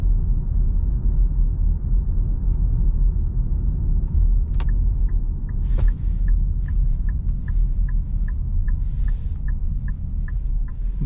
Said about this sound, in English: We are driving on the beautiful roads here in Sweden.